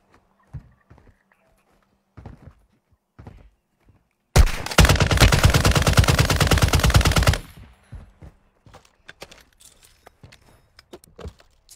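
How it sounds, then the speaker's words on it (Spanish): Sustained automatic gunfire in Call of Duty: Warzone 2 rattles loudly for about three seconds, with scattered single shots and footsteps before and after. "¿Quién me está disparando?"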